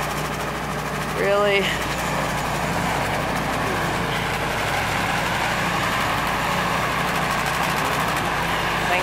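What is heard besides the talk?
snowblower engine running in winter snow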